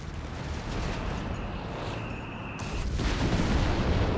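A Pak 40 anti-tank gun fires in the Company of Heroes 3 video game, a heavy boom rising out of a constant, dense rumble of battle noise.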